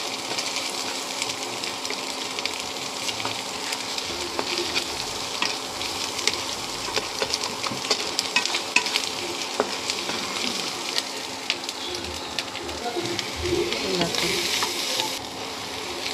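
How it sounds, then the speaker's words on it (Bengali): Yippee noodle masala frying and being stirred in a pan, with a steady loud sizzle and scraping that carries on throughout. "দেখো মশলাটা একটু আমি ফ্রাই করে নিচ্ছি।"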